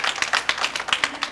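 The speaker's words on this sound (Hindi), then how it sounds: "भाइयों, तालियां!" Audience clapping at a comedy stage play, a short burst of irregular claps from a modest crowd, fairly close and lively, with no talk over it.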